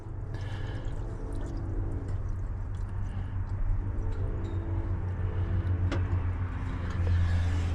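A 1980 Chevy 4x4 with a QuadraJet carburetor cranks over steadily on its starter for several seconds with a continuous loud low churn, intensifying slightly toward the end.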